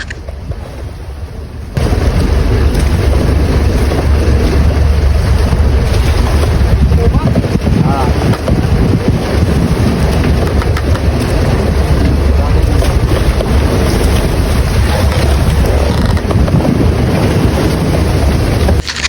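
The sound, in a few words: wind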